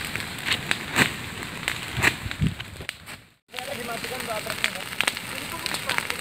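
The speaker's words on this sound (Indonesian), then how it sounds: "di depan kita api sudah, kita sudah disambut api di depan" Forest fire burning in Kalimantan, with broadband crackling and rushing noise throughout, interrupted by a brief near-silent gap midway before the burning sound resumes at steady loudness.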